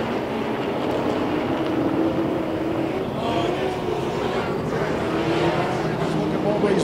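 Late model race cars in Big 8 racing at Tomah-Sparta Speedway make a continuous, fairly distant engine roar that rises and falls slightly, with indistinct voices mixed into the noise.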